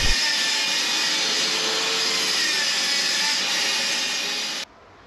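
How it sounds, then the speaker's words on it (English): Steady, loud power saw cutting a piece of wooden trim in a home garage workshop, a continuous whine and rasp running nearly five seconds before stopping abruptly, with no talking. "just quickly cut another piece of trim that I forgot to do"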